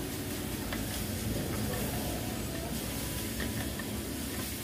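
Food roasts and is stirred in a pan over a high flame, producing a steady sizzling hiss with occasional scraping taps of the utensil, close and continuous.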